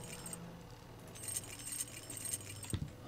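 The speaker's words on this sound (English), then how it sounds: "Whole bunch of keys." A bunch of keys jangling as they are picked up in the stealth game Thief 2: The Metal Age, bright metallic clinks in quick clusters over a low hum, ending with a soft thud.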